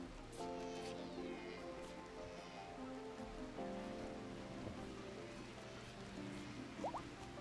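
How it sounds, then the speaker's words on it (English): Rain falls in the colony-building video game The Rim of Time, a soft, steady hiss over a faint tonal music bed, continuous and quiet with no talking. "And it's still raining."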